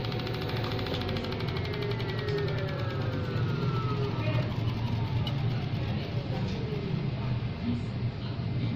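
The rear wheel motor of a Dualtron MX electric scooter spinning freely on a repair bench, a steady rising and falling electric whine over a constant hum, close and continuous.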